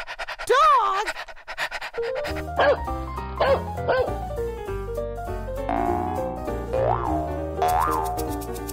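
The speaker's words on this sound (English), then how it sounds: "Dog!" A cartoon dog pants and barks over bouncy children's cartoon music with boing-like sound effects, its yips and huffs riding on top of the tune.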